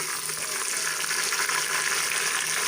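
Ginger and garlic fry in onion masala for beef paya, a steady, dense sizzle holding evenly throughout, close and loud with no talk.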